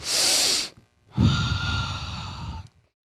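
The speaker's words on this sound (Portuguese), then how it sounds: "Eu fiz aí meu movimento de respiração." One person takes a deliberate breath in and out near the microphone: a brief, airy inhale, a short pause, then a longer, audible exhale.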